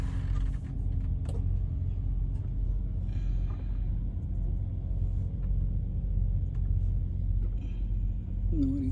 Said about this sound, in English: I am turning on the main power button and then I turn on the ignition.